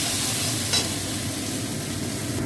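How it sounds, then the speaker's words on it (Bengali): Brinjal frying in hot oil with salt and turmeric, a steady bright sizzle running throughout with one brief stir or scrape near the start, no talking. "নুন হলুদ দিয়ে ভেজে নেবো এটা।"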